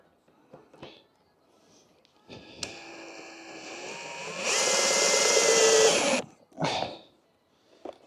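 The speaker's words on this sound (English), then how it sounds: "I'm just gonna put in some screws." A power drill or driver sets screws while building a playground, whirring in a few short bursts and then one sustained loud run of about two seconds, with brief quieter tool sounds before and after.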